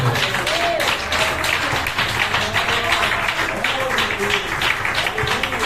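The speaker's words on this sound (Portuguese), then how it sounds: "batendo a linda salva de palmas que engrandece e exalta o nome do Senhor" A church congregation at a live Portuguese-language service claps loudly and densely over several seconds, with steady crackling applause under talking and voices.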